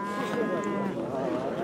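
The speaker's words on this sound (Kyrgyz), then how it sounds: "Мына ушул уй боз экен." Cattle at a Kyrgyz livestock market; a low, drawn-out moo sounds close by beneath a crowded market murmur and nearby voices.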